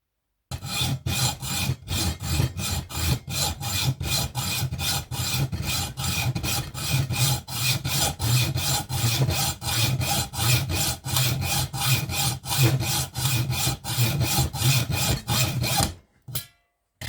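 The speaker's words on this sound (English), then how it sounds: "put this in the bench vise and do a little bit of fairly straightforward hacksaw work onto these lines here" A hacksaw cuts metal clamped in a bench vise while making a ratchet pawl, with a fast, steady rhythm of rasping strokes, close and loud, ending abruptly.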